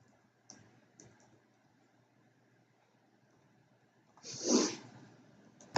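A computer mouse gives two faint, quick clicks about half a second apart in a quiet room, followed later by a short louder rustling hiss.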